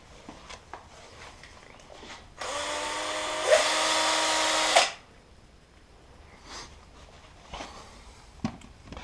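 A Parkside drill bit cuts a 35 mm hole during LED light installation on a Honda SL230 enduro motorcycle: a single two-second whirring burst whose pitch steps up midway, then stops, with quiet surroundings before and after.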